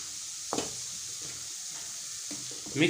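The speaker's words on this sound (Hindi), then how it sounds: "और इसको कर लेंगे अच्छी तरीके से मिक्स" Chicken is stirred in a pan with ground black pepper and salt for an oil-free chicken dish. A quiet, constant hiss runs under a few soft scraping knocks from the stirring, with a slightly louder clatter at the end.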